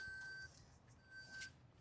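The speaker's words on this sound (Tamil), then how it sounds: "ஸோ இந்த சீட் பெல்ட்டோட வார்னிங் பீப் சவுண்டு இப்போ கேட்டுகிட்டே இருக்கு" Inside a Maruti Suzuki Fronx, the seat belt warning chime sounds as faint, high, steady tones that repeat at a quiet level over low cabin hum.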